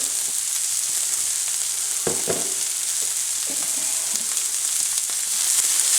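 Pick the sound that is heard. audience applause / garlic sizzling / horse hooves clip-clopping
garlic sizzling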